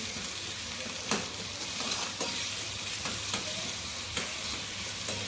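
Onion-tomato masala with chili, turmeric and coriander-cumin powder fries in a pan with a steady close sizzle, broken by a few sharp stirring scrapes of a spoon, with no voices.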